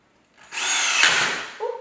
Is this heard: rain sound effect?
no